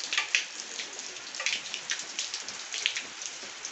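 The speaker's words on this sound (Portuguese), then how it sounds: "olha aqui que chuvinha maravilhosa. Aqui, ó, uma goteira caindo aqui da telha." Rain falls steadily with drops pattering close on a surface, and water from a leaking roof tile drips in irregular bright taps over the soft hiss of the shower.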